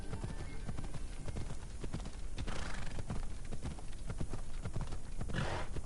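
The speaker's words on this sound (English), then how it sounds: "I'd like my horse to run quicker." A horse gallops steadily with rapid, rhythmic hoofbeats, loud and continuous under a dense game soundscape in Assassin's Creed Odyssey.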